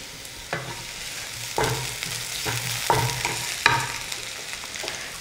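Onion and capsicum stir-frying on high flame for veg dry Manchurian, a steady hiss of sizzling oil broken by several sharp scrapes and tosses of the spatula in the pan, close and clear with no talk.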